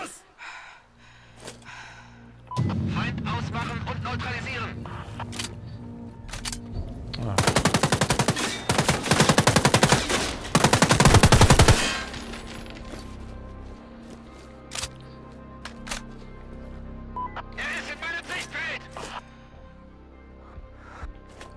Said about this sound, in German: Ich bin unter Beschuss!